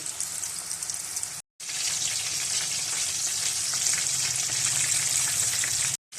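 Spicy chicken pieces fry on a slow flame with a dense, even sizzle heard up close, cut by two brief silent gaps.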